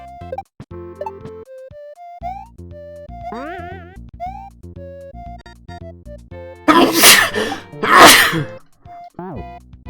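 Two loud, explosive sneezes burst out in quick succession over electronic video game music and bouncy sound effects.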